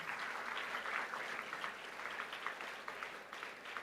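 At a national-level technical symposium, an audience gives a student a round of applause, even and moderately distant clapping that holds steady for the whole stretch.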